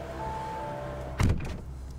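A single solid thunk of a car door shutting, close by, after a steady low hum from inside the vehicle.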